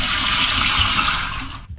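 A human beatbox voice imitates a powerful toilet flush, making a loud, close rushing whoosh of water that holds steady and then tails off abruptly.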